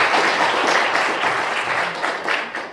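An audience at a spiritual academy lecture applauds, a dense, even wash of clapping that holds steady for a few seconds and fades slightly at the end.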